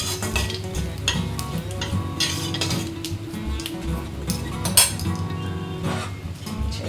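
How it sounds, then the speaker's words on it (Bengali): Oyster mushrooms and cumin stirred in a hot pan, a steady close sizzle with continuous scraping and clinking of a utensil against the metal, with no talking. "একদম নেড়ে নেবেন। 1 মিনিট নাড়লেই হবে।"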